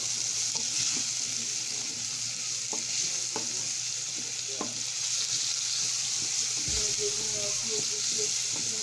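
A pot of toddler soup with carrots cooks on the stove, giving a soft steady hiss with scattered light clicks and taps of a utensil against the pot, quiet and close.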